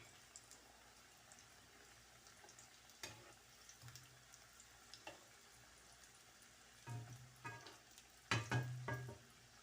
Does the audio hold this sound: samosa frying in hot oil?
yes